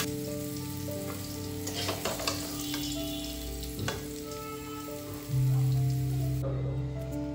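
Dal being tempered in hot oil in a home kitchen, a steady loud sizzle and crackle with bay leaf and spices, continuous throughout with occasional pops and a brief rise near the end, no talking.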